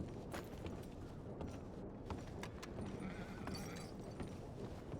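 Scattered horse hoofbeats in a video game, clopping unevenly over a busy background hum, with a faint whinny-like sound; no speech.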